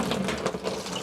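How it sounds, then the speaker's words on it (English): Hot water from a tap pours down through the bore of a cap and ball revolver during cleaning, a steady close splashing rush filling the moment without speech. "I get this hot water going down through the bore and wash out anything that might be left in there"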